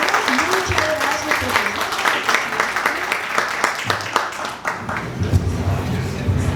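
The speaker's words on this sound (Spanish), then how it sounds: "Un aplauso, por favor." Seminar audience applauding loudly and steadily for several seconds, dense clapping with some voices mixed in.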